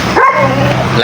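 A dog barks close by in a brief, loud burst over a noisy, cluttered background.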